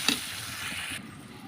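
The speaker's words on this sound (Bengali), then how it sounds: "এখন একটু কষা নেব" A fish head sautés with spices in a pan, a soft close sizzle with a small clink at the start, fading after about a second, with no talking.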